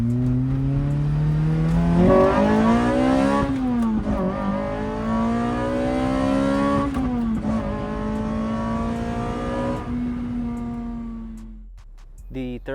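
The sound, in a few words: Lotus Elise engine revving with custom cone air filter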